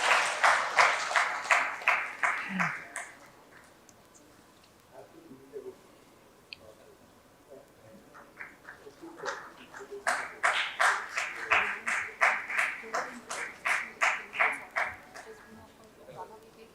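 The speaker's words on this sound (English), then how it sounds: "I'll request the audience to please give a big round of applause." Audience applause at an education conclave, two bursts of rapid clapping from a large crowd, the first fading out after a few seconds, then quiet murmur before a louder, sustained round swells and tapers.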